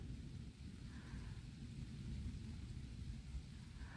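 Small, distant thunder during a thunderstorm, a low continuous rumble under steady rain, faint and far off without sharp cracks.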